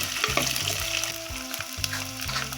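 Onions and green chillies sautéing in a pan with oil and curry leaves for a Kerala-style mackerel fish curry, a steady close sizzle with intermittent scraping stirs, no voices.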